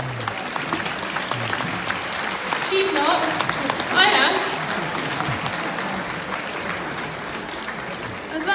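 Audience applause at a dressage test ride, a steady wash of clapping from a crowd lasting throughout, with a person speaking briefly over it.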